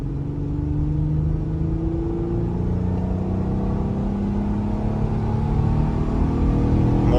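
Car engine pulled at wide open throttle while driving, a loud steady drone rising gradually in pitch as revs climb, heard from inside with no talking.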